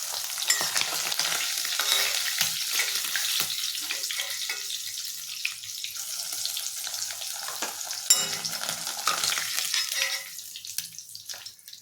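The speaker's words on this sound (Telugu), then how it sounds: "అందుకని స్టవ్ మీడియం ఫ్లేమ్లో పెట్టుకుని వేపించుకోవాలి." Drumsticks and salt fish fry in a pan on a stove set to medium flame, giving a continuous soft sizzle with scraping stirs and occasional clinks, moderately quiet and close.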